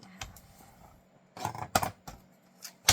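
Several crisp snips of scissors cutting through card for a handmade Valentine card, short sharp bursts spaced irregularly, close and fairly clear with no talking.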